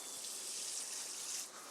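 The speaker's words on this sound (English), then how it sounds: "let's get a little water going there" Tap water runs steadily into a kitchen sink, a continuous hissing rush that holds at an even level, then dips slightly near the end, with no voices over it.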